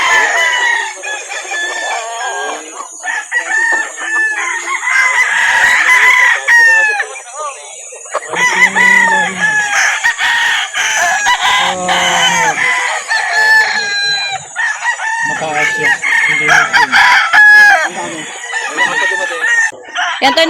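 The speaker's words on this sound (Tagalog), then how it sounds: "Maliit na manok." Roosters crow repeatedly and chickens cluck throughout a busy poultry market in Calauan, Laguna, with bird calls layered densely and fairly close, while people talk intermittently in the background.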